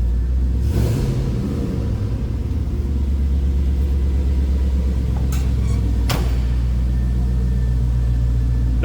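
A 1954 Chevrolet 3100 street rod truck engine idles with a deep, steady exhaust rumble, close and constant throughout, with a couple of brief clicks over the drone.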